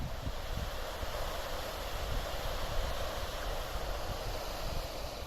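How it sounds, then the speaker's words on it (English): Water rushes from waterfalls on a Northumberland fell near the old Barhaugh Colliery, a constant broadband roar heard close up and steady throughout, with no talking. "we're between the two waterfalls"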